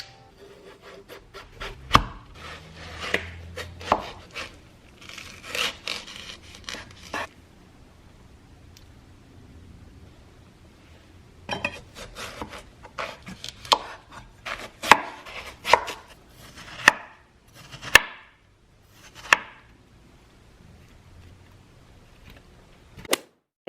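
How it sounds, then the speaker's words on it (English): A knife cuts through a watermelon in a quiet room, with crisp crunches, slices and soft knocks against the board, coming in uneven bursts, some sharp and isolated, and close up. "And now I announce to you watermelon cutting ASMR."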